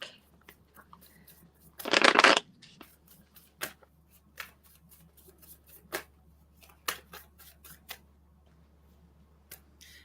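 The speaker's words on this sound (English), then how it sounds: "One more shuffle for Mike." Tarot cards riffled in one loud burst of shuffling, followed by scattered soft taps and flicks of cards being handled, close and quiet.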